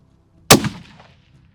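A single sharp rifle shot from a Christensen Arms MPR fired at a steel target roughly 500 yards away, loud and close with a brief decaying echo tail and no voices.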